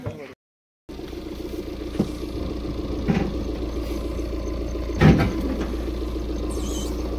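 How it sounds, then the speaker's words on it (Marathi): Vehicle engine as the car sets off on the road to Ratnagiri, a steady low idling drone after a brief dropout, with a few soft knocks and a bump along the way. "मित्रांनो गाडी निघाली आता रत्नागिरीच्या मार्गावर"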